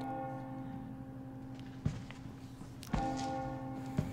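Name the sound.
church bell ringing in video game Resident Evil 4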